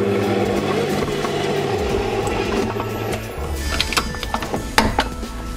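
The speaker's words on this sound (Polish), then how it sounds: "Całość będę jeszcze mieszał dosłownie chwilę, myślę, że około minutki na wolnych obrotach." A stand mixer kneads plum and hazelnut bread dough on low speed, a steady mechanical motor drone that shifts pitch partway through, then gives way to knocking, ratcheting clatter from the mixing bowl.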